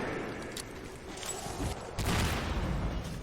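Gunfire with a burst of explosion in the Metro Exodus video game, a dense, continuous battle din that swells louder partway through, with no clear speech.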